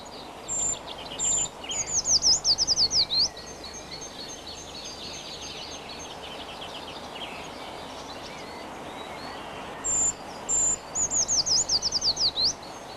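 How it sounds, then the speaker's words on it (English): A tree creeper sings a high, thin song in two bursts, each a few soft opening notes followed by a rapid descending trill ending in a flourish, separated by quiet woodland ambience. "The high-pitched song of the tree creeper may be heard from February onwards"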